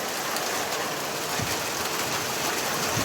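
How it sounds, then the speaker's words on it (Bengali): Hail falls in a dense, steady roar of small ice pieces striking surfaces, loud and continuous throughout with no pauses and no voices. "আমাদের এখানে শিলাবৃষ্টি হচ্ছে, বড় টুকরো পড়ছে ছোটো ছোটো।"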